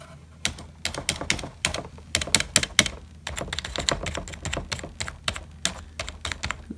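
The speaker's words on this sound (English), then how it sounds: "It's not as clicky sounding as I would like it, but it is pretty smooth to use" Fast, close typing on a Flagpower R7000 backlit gaming keyboard, with steady bursts of soft, not very clicky keystrokes and brief pauses, no talking.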